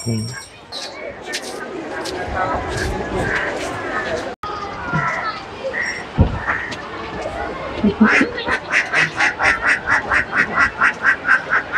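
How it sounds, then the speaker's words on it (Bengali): Ducks quack near a sandy Chandipur–Dublagadi sea beach, a rapid rhythmic run of calls building toward the end, mixed with people chatting and children's voices in the background. "হ্যাঁ, ডাকের কাছে যাচ্ছে"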